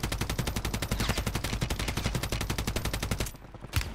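Rapid automatic gunfire from Call of Duty: Warzone rattles off in a fast, even stream of loud shots for about three seconds, then stops abruptly, with one last burst at the end.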